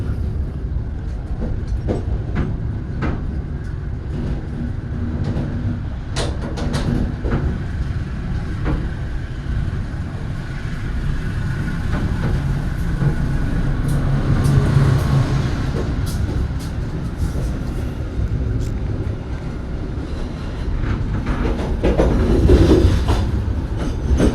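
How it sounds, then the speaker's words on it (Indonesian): A passenger train running on the Parahyangan line as it nears Bandung station, a loud continuous rumble of wheels on rails with rhythmic clickety-clack and faint squeals, heard from inside the carriage. "Persiapan masuk stasiun Bandung."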